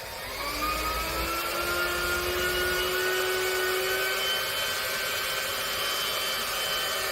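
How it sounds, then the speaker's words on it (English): A blender runs steadily on full speed, mixing jalapeno cheddar ingredients in a bowl, with a constant whirring motor hum and a whine that rises slightly in pitch as it spins up, loud and close. "you're going to turn the blender on full speed"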